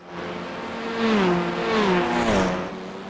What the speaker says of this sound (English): As the cars run themselves down.